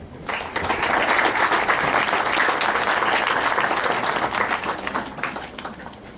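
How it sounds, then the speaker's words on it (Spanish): Loud, steady audience applause welcoming a speaker at a university seminar on economic growth modelling in agriculture, a dense crowd of clapping hands swelling in after half a second and sustaining for about six seconds. "Demos un fuerte aplauso"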